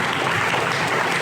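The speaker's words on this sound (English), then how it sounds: "Let's hit a round of applause for the raise." Brief burst of steady, dense audience applause at a Tampa Bay Rays donation event, filling the whole moment at even loudness.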